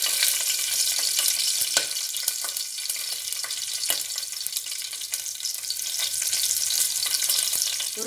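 Cinnamon sticks, cloves, fennel seeds and green chillies fry in hot oil for a potato kurma, a loud, continuous close-up sizzle and crackle with a few sharper pops.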